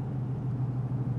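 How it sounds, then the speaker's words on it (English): A steady, low engine rumble from a 1920s Le Mans car fitted with an exhaust cutout, a deep, fairly loud exhaust drone holding constant throughout with no pauses. "the exhaust note is a fairly loud note because the car was equipped with an exhaust cutout"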